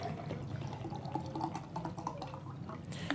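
Water is poured into a glass for mixing protein powder, a soft trickling splash with small drips that continues for a few seconds, quiet and close.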